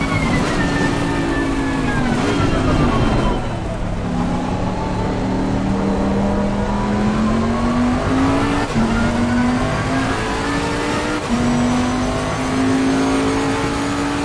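A race car in Assetto Corsa Competizione drones loudly through the gears, its engine pitch rising under acceleration and dipping under braking, with faint tire noise and no talking.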